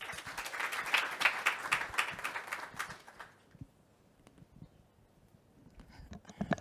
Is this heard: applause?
yes